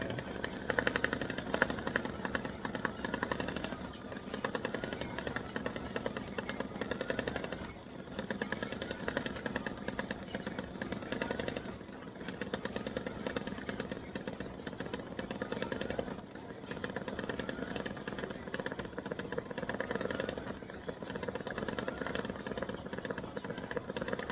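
An embroidery machine stitching a cross and dove design onto card stock, a dense continuous mechanical buzzing and rattling drone that runs loud and close throughout without pause.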